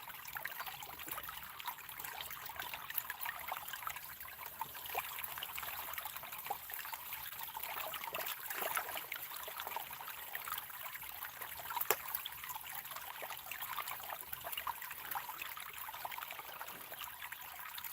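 Water runs steadily through a gold prospecting sluice outdoors, a continuous fast trickling and rushing wash with occasional small splashes, moderately close and without talk.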